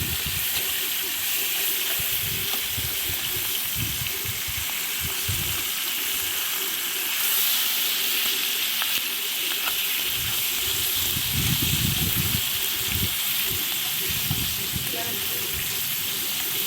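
Large rohu fish heads fry in hot oil, giving a constant close sizzling hiss with bubbling crackle, while some low talking sounds underneath.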